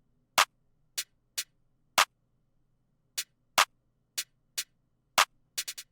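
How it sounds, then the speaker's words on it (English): A programmed snare drum pattern in a beat, sharp crisp hits landing in an irregular syncopated sequence with silence between, ending in a quick triple roll, dry and alone. "this is the first snare pattern. It's going to sound like this."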